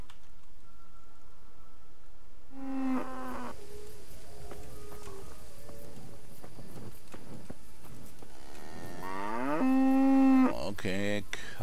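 Cattle low in the medieval game Kingdom Come Deliverance: one drawn-out moo near the start and a second, louder one later, both over a quiet outdoor ambience.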